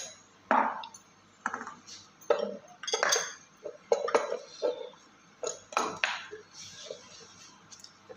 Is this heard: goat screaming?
no